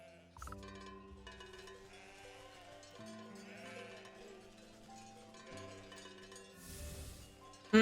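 Sheep bleat in the video game Wytchwood, set against a steady layer of tonal game music with a brief brighter swell near the end; the animal calls are mixed into the score rather than standing out alone.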